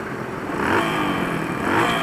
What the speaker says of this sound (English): Time to open up the bike.